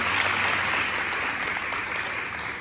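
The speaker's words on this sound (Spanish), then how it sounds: "Den un fuerte aplauso a Dios y póngase de pie" A church congregation breaks into steady, dense applause, many hands clapping together in a sustained, evenly loud wash without a pause.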